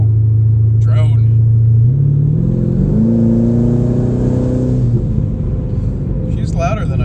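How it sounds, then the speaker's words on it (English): Twin-turbo Chevrolet Camaro ZL1 exhaust revs loud and close with diverter valves open, engine pitch climbing and settling in a steady droning roar while someone talks faintly over it. "then you open up those diverter valves, and you can really hear the exhaust again"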